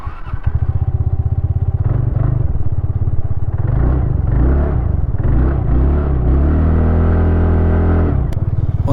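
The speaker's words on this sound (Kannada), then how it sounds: "ಹೊರಡೋಕೆ ಮುಂಚೆ ಒಂದ್ಸರಿ ಈ ಗಾಡಿ ಎಕ್ಸಾಸ್ಟ್ ನೋಟ್ ಕೇಳಿಸ್ಕೊಳ್ಳಿ" A TVS Ntorq 125 Race Edition scooter idles close by with a loud, steady low exhaust thrum, then revs in several rising and falling surges before settling back.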